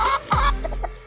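Chickens on a seaside farm clucking close by, one throaty squawk followed by a few short quick clucks.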